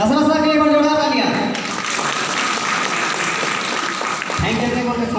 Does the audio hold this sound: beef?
no